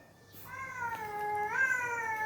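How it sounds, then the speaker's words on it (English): A baby kitten on a house terrace gives one drawn-out, rising and wavering meow, close and fairly clear, against quiet morning surroundings. "My cat."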